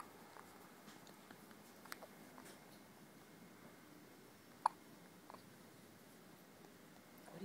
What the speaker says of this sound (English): He's got hiccups like his mom.